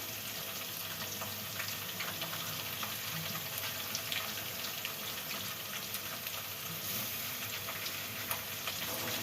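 Tomato and other ingredients for a Central Javanese dried shark dish sautéing in a pan: steady loud sizzle and crackle throughout, with light stirring taps and no speech.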